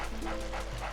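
A dog pants quickly in the Luigi's Mansion video game, a rapid breathy rhythm with faint whimpering tones over a steady game soundtrack.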